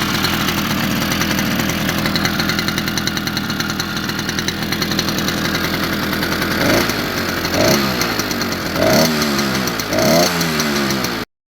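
A 100cc two-stroke motorized bicycle kit engine runs loud and close, a steady buzzy drone that rises in several sharp revs near the end.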